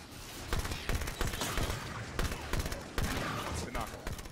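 Gunfire while under attack in Halo 5: a steady stream of sharp shots and bursts, fairly close, with voices talking at the same time.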